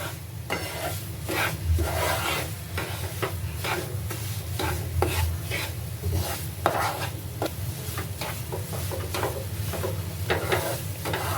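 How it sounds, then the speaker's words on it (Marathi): Besan (gram flour) roasting in a pan for amrut pak barfi, stirred continuously: a steady scraping and soft sizzle with a rhythmic back-and-forth of the spoon, fairly loud and close, with no voices. "बेसन पण आपलं भाजतच आलेलं आहे"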